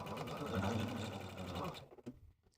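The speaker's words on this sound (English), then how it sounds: "Go ahead and stitch a 1/4 inch seam on both sides of this drawn line." A sewing machine runs in one close, continuous burst while stitching a quarter-inch quilt seam, its steady mechanical whir stopping abruptly near the end, followed by brief handling noises.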